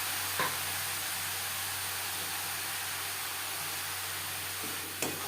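Radish pieces fry with tempering for a Bengali fish curry with bata fish, a steady soft sizzle and hiss running throughout, broken by a couple of faint scrapes of the spatula at the start and end.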